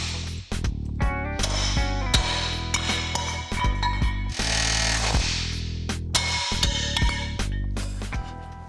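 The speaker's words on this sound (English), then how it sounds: "we'll cut a few rivets and remove the shackle mounts" Steady, loud power tool cutting rivets off the rear frame rails of an old Chevy OBS truck, running continuously for several seconds with metallic whine and brief dips as the cutter bites and shifts.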